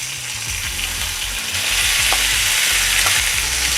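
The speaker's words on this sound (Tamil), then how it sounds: "ஜீரகம் மற்றும் காய்ந்த மிளகாயை அப்படியே போட்டுக்கலாம்." Cumin seeds and dried red chillies fry in hot oil in a home kitchen, giving a loud, continuous sizzle with occasional stirring scrapes and no talking.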